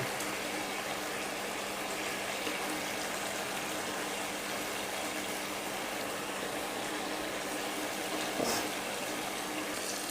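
Fried katla fish pieces go into simmering oil for a Bengali-style bhuna, with a constant, dense bubbling hiss close up and one brief louder splash near the end.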